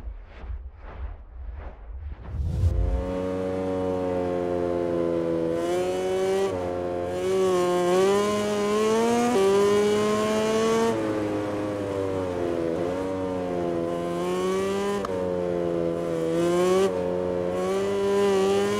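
A racing motorcycle engine in the MotoGP 20 video game, whining steadily and close, its pitch climbing and dipping through gear changes after a few short throttle blips at the start.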